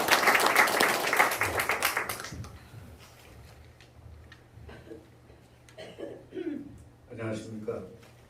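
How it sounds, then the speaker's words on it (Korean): An audience at a Korean village community council gathering applauds to welcome a speaker, a burst of clapping for about two seconds that fades, followed by someone talking over a quiet room. "큰 박수로 맞으시기 바랍니다."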